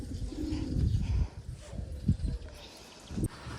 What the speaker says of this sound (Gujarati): કબૂતર છે